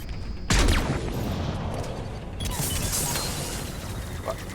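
Gunfire in a space-themed video game, a sharp loud burst opening into sustained rumbling shots and blasts, with a second surge partway through and dense noisy bursts throughout.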